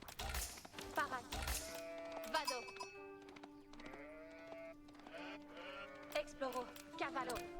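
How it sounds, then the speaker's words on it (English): Sheep bleat repeatedly in the video game Age of Empires 4, a series of wavering calls set against clip-clop hooves and game sounds. Someone talks over them. "We start with clubbing one of those sheep."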